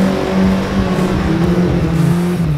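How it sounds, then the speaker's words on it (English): Car engine held against its rev limiter, a loud, sustained buzzing rev with a steady pitch and a rapid stuttering pulse as the limiter cuts in, close up with no talking, recorded on a gravel back road. "Bouncing that rev limiter"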